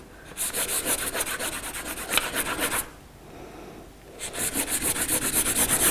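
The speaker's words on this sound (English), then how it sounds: "I'm using the side of the crayon." The side of a crayon rubs back and forth across paper to colour in a sky on a dragon drawing, giving fast rhythmic scratchy strokes in two bursts with a short pause between, close and fairly soft.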